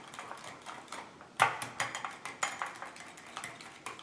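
Coconut flour and egg dosa batter whisked in a bowl: a quick run of light clinking taps and scrapes, with brighter sharp clicks near the middle, close by and fairly quiet, no voices.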